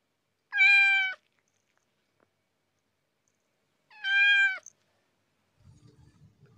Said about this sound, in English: Ooh, we have a cat.